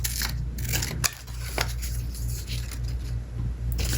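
Scissors cut through paper to make petals for an altered-book paper rose, heard as a series of close, crisp snips and rustles with small clicks between them, and no talking.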